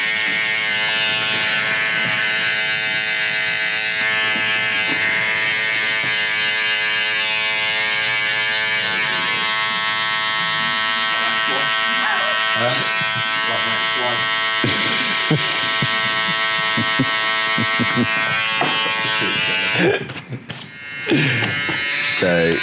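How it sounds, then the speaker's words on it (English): An electric foil shaver buzzes steadily and close up against a bald scalp during a skin fade, a continuous whine that shifts slightly in pitch as it moves, with someone talking over it before it cuts off near the end. "just getting the detailer out now, ready for the foil"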